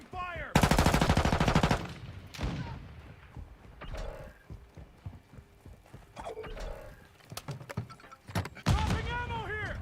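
Call of Duty Modern Warfare II combat: a loud, rapid burst of automatic gunfire, then scattered sharp shots and impacts, with game voices calling out between them.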